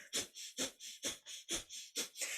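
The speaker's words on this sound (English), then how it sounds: "we're going to do a breath of fire through the left nostril. So that's our panting breath through the nose" Rapid, rhythmic breath of fire pants through the left nostril during kundalini yoga, about two sharp, breathy nasal puffs per second, close and steady with no talking.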